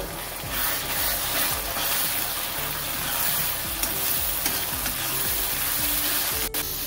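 Ginger paste frying with chicken masala in a pan for Bengali chicken kosha, a steady close sizzle with occasional stirring scrapes, no voices.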